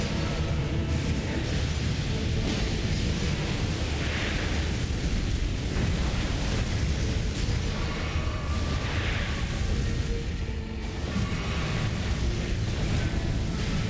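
Boss explosions in the video game Elden Ring at Mohgwyn Palace: loud, deep, continuous rumbling blasts that swell and roll on for many seconds with no talking.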